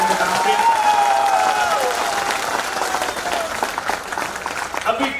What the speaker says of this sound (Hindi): तो जोरदार तालियां मारो पर्लवाइन के नाम पे।